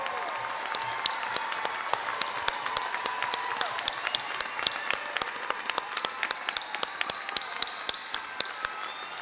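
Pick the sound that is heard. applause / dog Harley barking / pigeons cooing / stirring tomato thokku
applause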